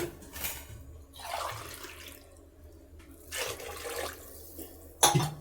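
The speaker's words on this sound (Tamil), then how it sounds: "4 டம்ளர் தண்ணி வைக்க போகிறேன்." Tumbler after tumbler of water is poured into a cooking pot with rice for tomato rice, several separate splashing pours at close range, ending with a metal clink of the vessel.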